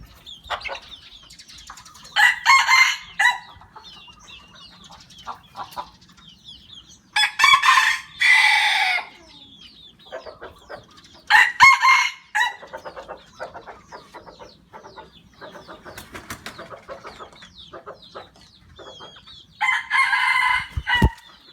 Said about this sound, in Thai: ตัวนี้ก็ซีซา ไก่กำลังเล่นนะครับ